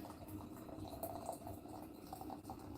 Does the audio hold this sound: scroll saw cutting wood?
no